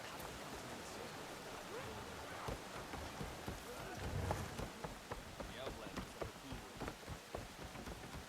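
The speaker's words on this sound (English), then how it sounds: "Rain." Steady rain falls outdoors near a river in the video game Horizon Forbidden West, a dense continuous patter with scattered heavier drops, close and enveloping.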